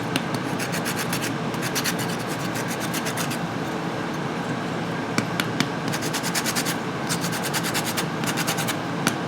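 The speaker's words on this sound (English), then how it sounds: "before we juice this lemon, we're going to do a little bit of lemon zest" A lemon is zested on a grater, giving bursts of quick, fine rasping scrapes in short rhythmic runs over a steady background room noise, close by with no one speaking.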